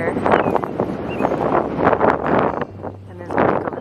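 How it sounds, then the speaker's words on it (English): Strong wind buffets the microphone beside a lake on a Nebraska birding trail, roaring in loud uneven gusts with low rumbling bursts throughout. "The wind was ripping"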